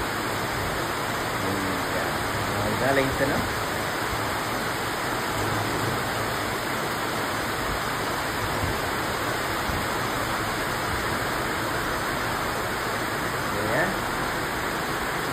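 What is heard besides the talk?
rain pouring outside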